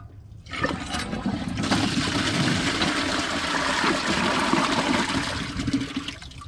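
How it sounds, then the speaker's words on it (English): A white 2012 Gerber Maxwell toilet flushes with the tank lid off, a loud close rush of water swelling in after a brief start and holding steady, then tapering as the tank refills. "Flush and tank view, here we go."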